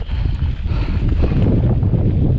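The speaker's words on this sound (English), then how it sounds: "Getting a bit windy at the top here." Steady, heavy wind at a hilltop on a trail buffets the microphone, a loud low roar that holds without letup.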